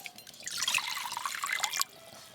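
Water pours into a vessel to be heated for making luchi dough, a close splashing, gurgling stream lasting under two seconds and then cutting off abruptly.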